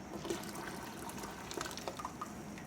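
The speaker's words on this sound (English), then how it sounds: "Pour off that liquid." Liquid pours off a glass jar during pressure canning of meat. It makes a steady, soft watery trickle that runs the whole time and rises to a few brighter splashes.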